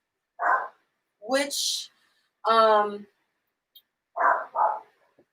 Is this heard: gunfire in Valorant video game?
no